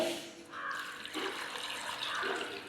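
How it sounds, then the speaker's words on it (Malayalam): Water pours and splashes into a metal pressure cooker holding tapioca close by, a steady running stream lasting a few seconds. "കുറച്ച് വെള്ളം ഒഴിച്ചെടുക്കാവേ"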